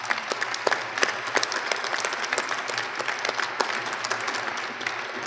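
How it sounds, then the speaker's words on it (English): Sustained applause from a college commencement audience honoring a banjo-accompanied soloist, dense and steady with a few sharper claps standing out, fairly close, with no talk over it. "Let's give him another round of applause."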